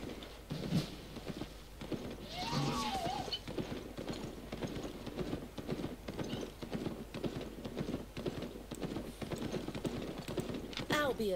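A donkey's hooves clip-clop in the video game Albion, a steady, close, even trot that runs throughout, with occasional voices over it.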